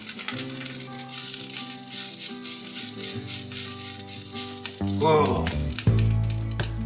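A tempeh patty sizzles and fries in a pan, a steady crackle running under background music, with a brief exclamation from a voice near the end.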